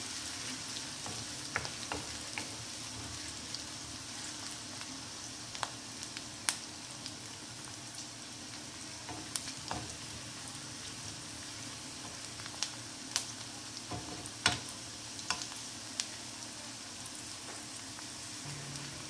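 Onion frying in a pan over fairly high flame, a continuous quiet sizzle dotted with sharp pops and crackles at irregular intervals, close by with no voices.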